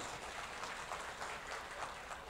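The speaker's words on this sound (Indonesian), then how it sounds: "boleh tepuk tangannya Bapak Ibu sekalian." Steady applause from an audience at a geology colloquium opening, a dense, even wash of clapping that holds at a moderate level throughout without voices breaking through.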